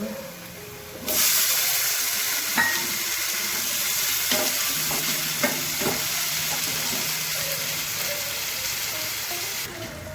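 Onions for Punjabi-style sarson da saag sizzle steadily in a hot pan, a constant frying hiss with occasional small pops and stirring clicks.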